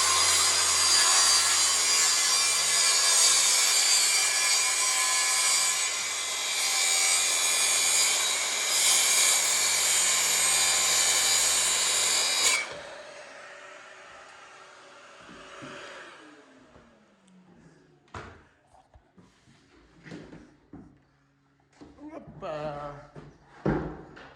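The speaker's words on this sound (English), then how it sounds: "I'm going to set that up on a rail saw now, rail saw and jigsaw." A rail saw screams through bathroom panelling in one loud, continuous cut lasting about twelve seconds, then winds down, followed by quieter handling knocks and brief talk.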